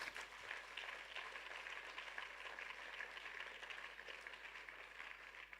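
Church congregation applauding to acclaim the Lord, a steady wash of many hands clapping at moderate distance, even and unbroken throughout.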